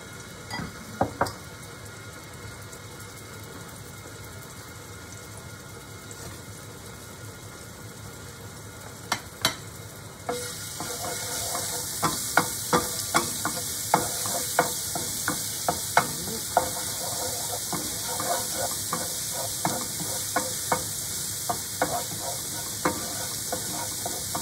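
Garlic fries in a pan for a zucchini ravioli gratin, a quiet steady sizzle that jumps louder about ten seconds in as more goes into the pan, punctuated by sharp scraping and stirring clicks close by.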